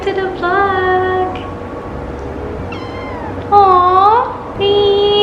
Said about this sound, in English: let me introduce to you Luna, the 8 weeks black kitten